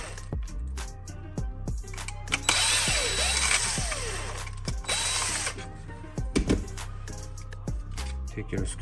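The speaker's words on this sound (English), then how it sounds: "take this screw out, that screw out. You need a little bit longer extension" A ratchet with an extension clicks in quick bursts while backing out Torx 20 screws on a Miele dishwasher, close and fairly loud, with a whirring pass in the middle and no talk.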